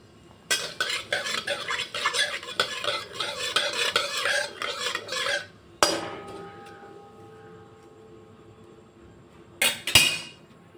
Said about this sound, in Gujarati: હવે બધા આપણે ખડા મસાલાને સાતળી લેશું।